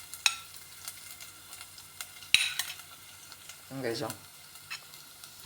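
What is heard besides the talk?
stirring and frying dinuguan (Filipino pork blood stew)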